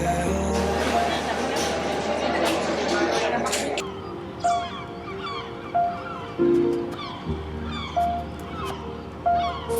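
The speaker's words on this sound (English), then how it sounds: "Flock of birds hovering above." A flock of birds passes overhead in Portugal, giving repeated short honking calls that come and go. The calls sound fairly distant over a background of ambient noise.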